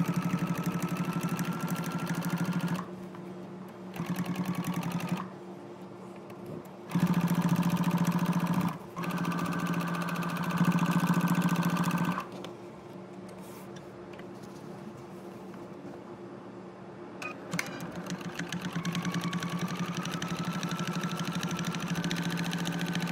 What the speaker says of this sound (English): sew it together with the wrong sides of the fabric together first with a 1/4 inch seam allowance